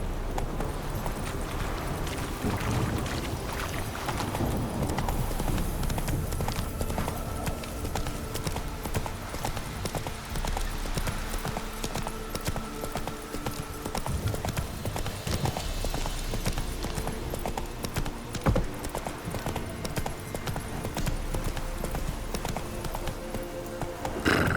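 Hooves of the horse in The Witcher 3: Wild Hunt clip-clop steadily and rapidly at a gallop throughout, close and continuous with faint game ambience beneath.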